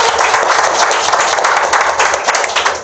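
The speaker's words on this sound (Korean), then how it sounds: "박수 주세요!" An audience claps steadily through a Korean reading talk show event, a dense and loud burst of applause that fills the room from start to finish.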